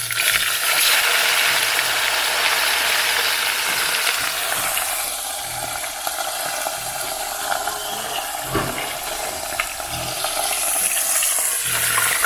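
Jamaican festivals frying in a pot of oil, a steady broadband sizzle and bubbling that runs continuously and fairly loud throughout, with occasional stirring or scraping knocks.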